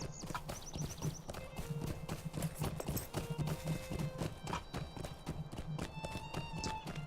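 Horse galloping in the video game Lord of the Rings Online, rapid rhythmic clip-clop hoofbeats with occasional chimes and game effects, faint and steady throughout.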